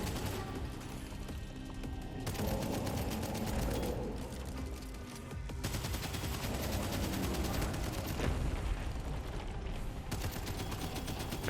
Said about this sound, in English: we're going to shoot him in the back there, and he's dead